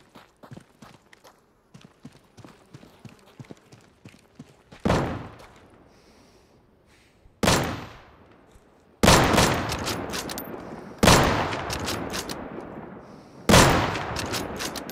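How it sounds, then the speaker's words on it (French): Gunfire in the video game Deadside at an airport map: a loud burst, a few single shots and several heavy volleys with ringing tails, with quick light steps running between them and no talking. "Il est où celui qui me tire dessus, là?"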